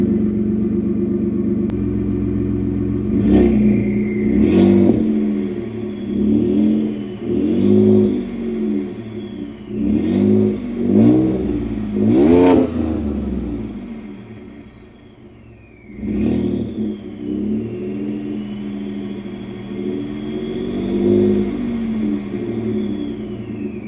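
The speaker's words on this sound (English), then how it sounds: "number 2 is going to be a good exhaust" A 2015-or-later Ford F-150 EcoBoost pickup with an aftermarket exhaust idles with a deep exhaust rumble, then revs repeatedly in sharp bursts, rising and falling, close and loud.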